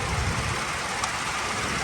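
A 2016 Ford F-150 EcoBoost twin-turbo engine idles steadily with a low, continuous rumble and a faint whirring hiss on top, no speech over it.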